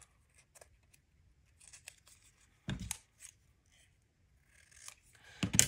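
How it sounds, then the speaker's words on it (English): Scissors snip through a punched 1¼-inch paper circle, cutting it in half: a few quiet crisp cuts with soft paper rustling in between, close and otherwise quiet. "we're going to punch out a 1¼-inch circle. And again, cut it in half."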